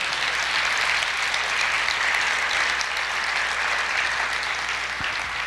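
A church congregation applauds steadily and loudly for the Lord, dense hand-clapping filling the space evenly from start to finish with no talking over it.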